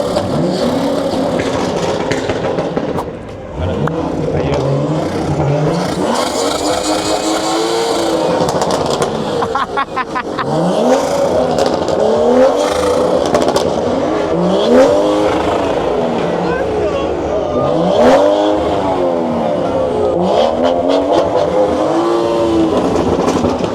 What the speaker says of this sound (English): Doc, rev my shit for me, bro.